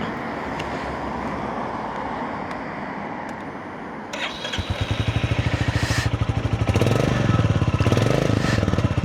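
A Royal Enfield Bullet 350 single-cylinder motorcycle engine is started after a few seconds of steady background rumble, then settles into a loud, close, rapid thumping idle with a brief rev that lifts the pitch.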